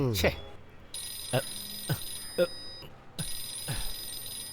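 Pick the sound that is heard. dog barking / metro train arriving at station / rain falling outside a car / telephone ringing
telephone ringing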